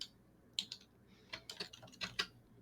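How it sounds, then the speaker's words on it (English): Quick typing on a computer keyboard, a short burst of about eight crisp clicking keystrokes at close range with uneven rhythm, fairly quiet and without talk. "I need to not type so fast."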